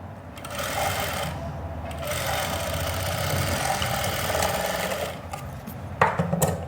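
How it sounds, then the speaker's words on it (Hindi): A sewing machine runs steadily, stitching a heavily beaded garment at a gentle pace, a close continuous whirring rattle with brief pauses and a few knocks near the end. "उसमें थोड़ा आराम से चलानी पड़ती है मशीन"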